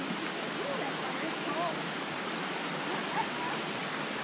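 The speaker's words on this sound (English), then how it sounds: "We've reached our first water crossing." Stream water rushing at a hiking trail crossing near Devil's Bathtub, a steady broadband wash of flowing water throughout, fairly loud and continuous with no talk over it.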